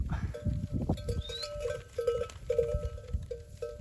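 A flock of sheep bleats amid livestock noise, with repeated steady bleats and a faint bell tinkling, rustling and outdoor background throughout.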